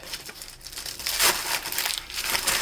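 Paper envelopes holding Pokemon cards are torn and crinkled open up close, a continuous loud rustling and ripping with sharper tearing bursts throughout.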